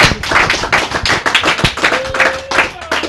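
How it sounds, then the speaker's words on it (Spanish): Secondary school audience applauding visiting first-grade students, a fairly small group clapping in distinct close bursts with uneven rhythm, loud and near, with some background voices. "darle un aplauso"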